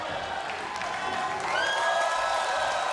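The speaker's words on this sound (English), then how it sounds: "the crowd is on their feet" Wrestling arena crowd on its feet, cheering and applauding steadily as the roar swells slightly midway, a dense wash of claps and shouts with some harmonic voice tones rising through it.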